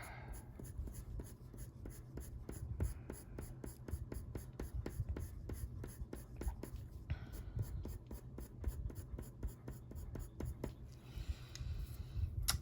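Colored pencil, burnt ochre, being worked across a paper coloring page, giving a steady rhythmic scratching of quick repeated strokes, close and fairly quiet and heard alone throughout.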